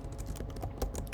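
Computer keyboard keys tapped in a quick, uneven run of close clicks while code is typed, with no talking.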